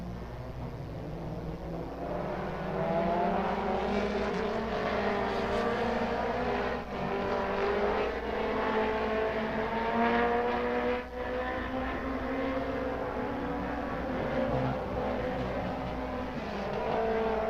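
Mini stock race cars running hot lap qualifying at Talladega Short Track: a steady, continuous engine drone at moderate distance with rising and falling pitch as cars circle, no talk.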